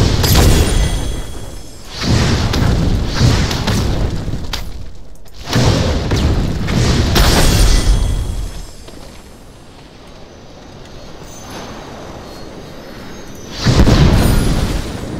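Fire spell blasts strike practice targets in the fantasy battle game SpellBreak, loud booming bursts coming in several heavy waves with whooshing rumble between them, a quieter stretch in the middle before one more strong blast near the end.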